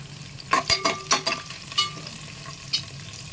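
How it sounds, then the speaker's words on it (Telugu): Onions frying in oil with cumin, curry leaves and salt for a black-eyed pea curry, stirred with a utensil: a steady sizzle under a series of sharp scraping stir strokes, close and clear. "ఇలా సాల్ట్ వేయడం వల్ల ఆనియన్స్ త్వరగా ఆయిల్లో ఫ్రై అవుతాయండి"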